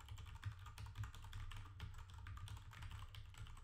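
Code is typed on a computer keyboard in a steady, rapid patter of clicking keystrokes, soft and close, with no voices over it.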